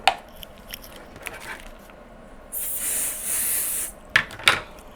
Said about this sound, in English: Now I'm just gonna spray it with my adhesive spray.